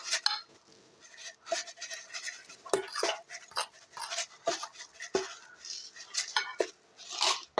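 A spoon clinks and scrapes against a bowl while chocolate cake batter is being stirred, giving a string of sharp close taps and scrapes in an irregular rhythm with no talk.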